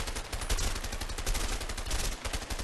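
Rapid gunfire from a gun in the video game A Way Out, loud, dense bursts of shots crackling continuously with no voices over them.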